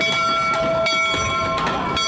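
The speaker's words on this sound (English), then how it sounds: "We're surrounded by trains." Trains roll past at a rail crossing event, a steady loud rumble with rhythmic clatter and a sustained horn-like tone, dense and continuous throughout.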